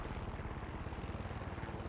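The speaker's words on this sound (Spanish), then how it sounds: "Lo fácil y rápido hemos llegado con el helicóptero" Rotor noise from a helicopter landing on a tower in the video game Far Cry 6, a faint, steady, rapid thumping chop with no voices over it.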